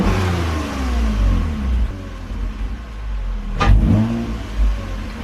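A Toyota Camry TRD engine revs up while driving, a loud, close rising roar that eases off briefly and then climbs again.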